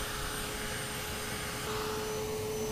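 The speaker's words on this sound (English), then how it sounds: "tube which you just hook on the end of the vacuum cleaner" A vacuum cleaner fitted with a grooming tube attachment for deshedding cats runs at home with a steady, loud, whining roar and a constant high hum, continuous throughout, with no voices.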